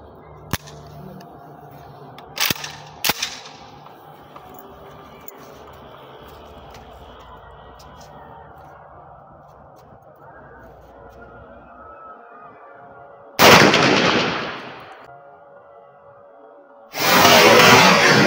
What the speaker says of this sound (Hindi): इन दोनों गन पे फायर करते हैं और देखते हैं कि किसकी पावर ज़्यादा है